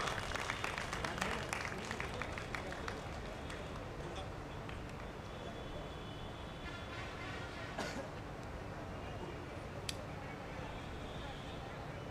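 Crowd applause and cheering at a Dahi Handi festival on Miller Ground in Patna, a dense, steady wash of clapping that is busiest at the start, with a voice talking over it.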